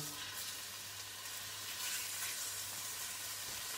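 Pork belly sizzles steadily in a hot pan for a Chinese braised pork belly casserole, a dense and even crackling hiss that runs throughout with no one speaking.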